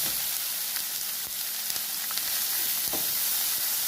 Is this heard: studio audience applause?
no